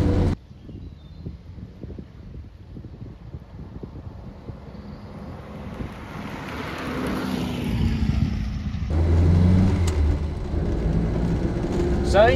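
A Reliant Supervan 3, a plastic three-wheeled van with a 30 horsepower engine, drives along with a steady engine drone and whining gear noise that builds in loudness toward the end, with someone talking inside the cab.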